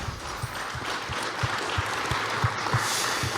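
Steady applause fills the space, with sharper claps landing at a regular, even pace throughout.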